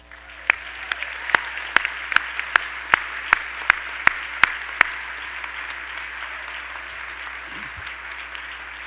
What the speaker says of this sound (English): let me ask you to join me in giving them another round of applause